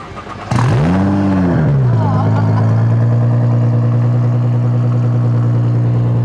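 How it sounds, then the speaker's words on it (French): A BMW car engine cranks and catches, revs up loudly once, then settles into a steady, close idle hum. "Tu veux la mettre en route pour voir le bruit qu'elle fait, Agostine?"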